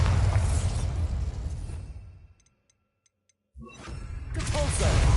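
A Bombarda explosion spell going off in Hogwarts Legacy, a loud crackling blast that drops into a moment of near silence before another burst of magical noise swells back in.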